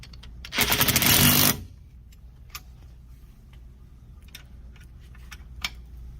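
Bolts are tightened on the transaxle bracket of a mobility scooter, opening with a loud buzzing burst from a power tool followed by quieter ticks and clicks of a ratchet, close by, with no talking.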